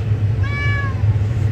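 A wild grown cat gives a single clear meow midway, drawn out and tonal, over a steady low background hum with no talking.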